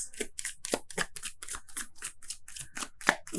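Tarot cards shuffled and drawn from a deck during an Aquarius reading, a rapid series of crisp papery flicks and slaps at close range, repeating steadily with no talk.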